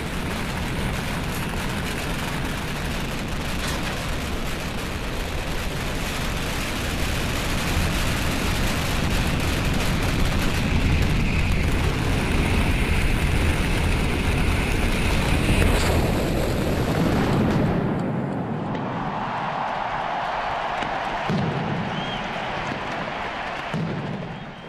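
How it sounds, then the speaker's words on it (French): Valencian pyrotechnic fireworks explosions pound in a continuous loud barrage, a dense roaring wall of blasts that cuts off abruptly near the end, leaving a quieter lingering rumble. "Une fois que la dernière explosion a retenti"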